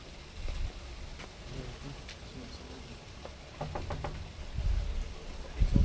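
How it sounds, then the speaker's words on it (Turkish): Knocking on the wooden door of a mosque in the Balat–Fener area of Istanbul: a short run of sharp raps in the middle, outdoors among faint street and wind noise, with voices nearby. "Caminin kapısını çaldık şu anda."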